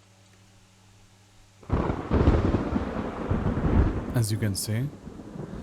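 Thunder sound effect in an Unreal Engine cinematic of an abandoned place: a loud, deep rumbling roll bursts in after a quiet lead-in and sustains, with a brief voice speaking over the end.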